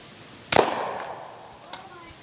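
A single sharp pellet rifle shot into a large vinegar and baking soda mixture cracks loudly, then decays into a fizzing, hissing tail with a faint knock near the end.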